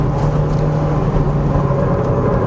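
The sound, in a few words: Mitsubishi Evo IX MR 2006 cornering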